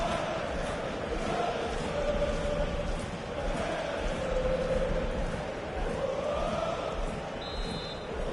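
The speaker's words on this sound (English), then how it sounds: "The crowd encouraging him to take it on." A football stadium crowd roars and cheers during a match, a dense, steady wash of noise that swells slightly in the middle, with a commentator's voice over it.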